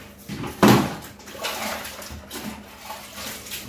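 A plastic bucket is rinsed with Star San sanitizer water, with splashing and sloshing in uneven bursts and a brief louder gush early on, close and moderately loud with no speech.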